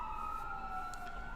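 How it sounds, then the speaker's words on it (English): A siren wails steadily at a moderate distance, a sustained tone with faint road noise beneath, no talking. "Yes, that's an ambulance."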